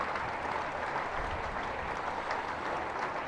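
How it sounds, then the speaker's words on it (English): Steady applause from a large outdoor crowd at a cricket match, a dense even patter of clapping lasting throughout. "nice applause there for Mo, rightly so."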